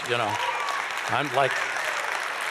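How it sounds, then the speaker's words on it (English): Applause from a church congregation during a sermon, a steady patter of clapping under a voice that speaks over it in short phrases. "You can clap for that if you want."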